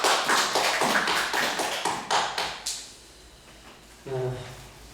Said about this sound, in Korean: 우리 영광의 박수 돌립니다